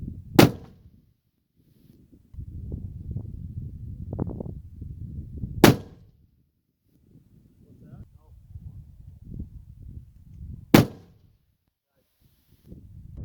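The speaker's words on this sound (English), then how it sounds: "Let's now shoot some 100-yard groups with my 340 Weatherby." Three sharp, loud rifle shots from a 340 Weatherby firing Weatherby factory 225-grain ammunition at a 100-yard range, spaced about five seconds apart, with someone talking quietly between the shots.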